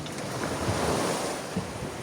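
Sea waves wash against the shore beside a boat at the seaside, a soft, steady surf with gentle swells and some wind, fairly faint and with no voices.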